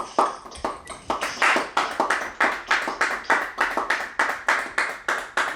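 A church congregation claps together in steady rhythmic beats for the Lord during a prayer service, with many hands striking roughly twice a second, loud and close with no talking.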